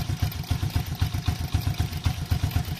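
A motorcycle engine close by during carburetor tuning, pulsing in a fast steady throb as its revs climb, with a clattery mechanical edge and no speech over it.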